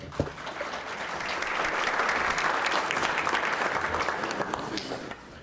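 Audience applause at an awards banquet, swelling from a few claps into full, sustained clapping from a large crowd that holds steady, then eases slightly near the end.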